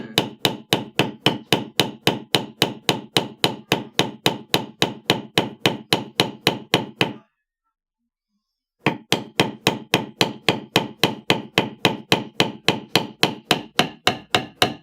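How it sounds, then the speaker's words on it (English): A 16-ounce maul strikes a leather beveler on wet leather in a fast, even series of close, sharp taps, pausing briefly in silence before the rhythmic striking resumes. "And this is a 16-ounce maul that I'm using, by the way."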